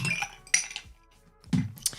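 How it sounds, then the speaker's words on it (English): A few ice cubes, two small and one large, clink and knock into a rocks glass for whiskey, making short bright chinks spaced over about two seconds with no talking. "I'll just put a big and a small, 2 small ice cubes and a big one."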